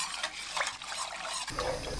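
A utensil stirs glutinous rice flour and water in a pot, making soft, continuous swishing and scraping close by at low volume, with a faint clink of metal near the end.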